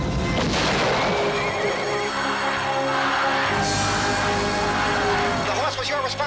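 Horse neighing loudly and close up in a film trailer, a long shrill whinny stretching over several seconds over rumbling background sound, with speech mixed in.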